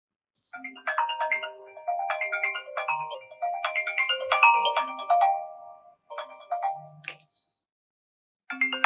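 A melodic phone ringtone plays in repeating chiming phrases, loud and close, with short pauses between bursts. It stops near the end and then starts again. No speech is heard over it.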